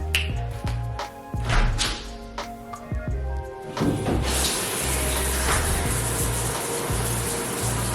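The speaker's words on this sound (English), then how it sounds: "we're gonna take a shower" Water from a home shower runs in a steady, broadband hiss that builds after a few seconds of splashing and clatter, continuing loud and close with no talk.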